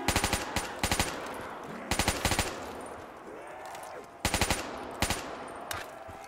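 Rapid bursts of automatic gunfire from a zombie shooter on a Nintendo, coming in short clustered volleys of three or four shots with quiet gaps between them.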